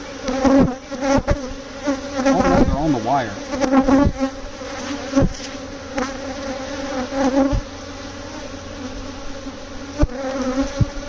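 A swarm of honeybees buzzes loudly and continuously at a spring swarm transfer into a Layens hive, with individual bees whining past close by and a brief spoken remark over the hum.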